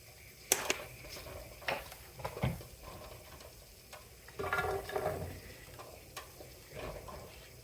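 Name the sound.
vegetables sautéing in a pan on low heat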